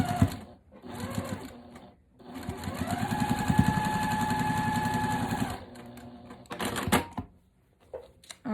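A sewing machine runs along a quilt seam with a loud, steady close-up hum. Short bursts are followed by a sustained run of several seconds, then a pause and more clicks and brief handling sounds.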